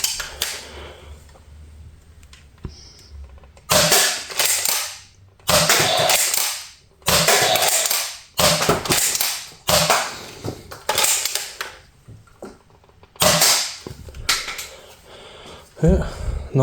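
A Dart Zone Renegade toy blaster fires foam darts at targets, giving a series of sharp, close pops roughly every one to two seconds, each followed by brief clatter.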